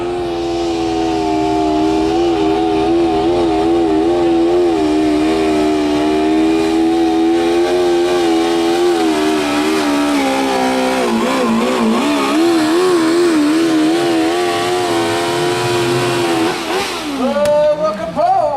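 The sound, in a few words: modified lawn tractor pulling at a tractor pull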